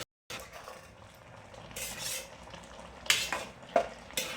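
A spoon works through a thick sorakkai paruppu kootu of bottle gourd and lentils in a pan, with soft scraping swishes and a couple of sharper metal clinks against the pan over a low simmer.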